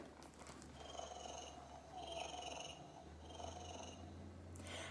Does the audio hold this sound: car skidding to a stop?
no